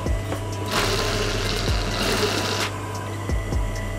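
A sewing machine stitching a blouse runs in a steady mechanical whir with a low hum, swelling louder for a couple of stretches, with no talking.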